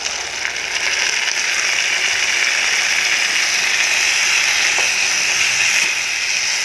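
Masala with soybean and rajma fries in a pan over high heat, a steady loud sizzle and crackle running throughout with occasional scraping.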